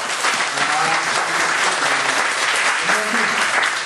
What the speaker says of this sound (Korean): 우리 축하해 주시고 박수 한번